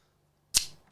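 A can of Jack Daniel's Tennessee apple drink cracks open with a single sharp pop and short fizzing hiss, close and crisp after near silence, fading within a fraction of a second.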